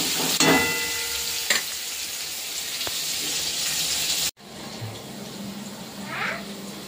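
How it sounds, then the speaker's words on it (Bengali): Pointed gourd (potol) pieces sizzle steadily in hot oil in a home kitchen pan while a spatula stirs them, with a sharp scrape near the start and a brief pause before the frying noise resumes more quietly. "পটলটা না ভাজলে তো ভেতরে জলটা শুকাবে না"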